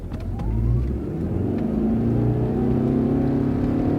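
A Toyota car in sport mode accelerates hard, its mid-pitched engine rising steadily in a loud, continuous roar from close by with no talking.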